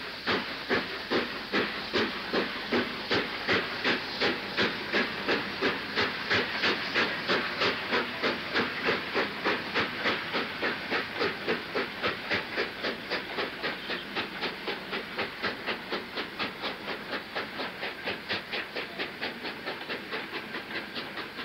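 British Railways 9F steam locomotive 92203 hauls a 1967 railtour, its exhaust beating in a fast, even chuff rhythm over steady hiss and rolling wheel noise throughout.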